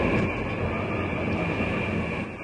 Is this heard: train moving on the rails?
yes